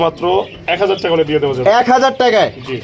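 Soft cooing from a pair of Australian doves kept for sale alongside pigeons, heard near and under steady, loud talking from several people throughout.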